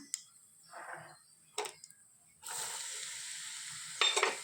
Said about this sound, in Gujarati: તેલ ગરમ થઈ ગયું છે તો હવે એમાં આપણે આ મીઠું હળદર અને હિંગ નાખી દઈશું